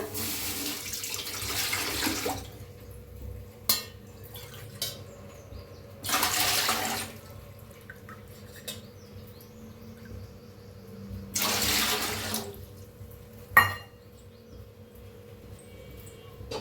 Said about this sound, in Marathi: आता ह्याच्यात पाणी ओतायचं आहे